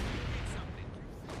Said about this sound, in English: sort of just blasting really big holes into the German lines with 152mm howitzer